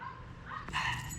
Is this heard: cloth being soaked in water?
no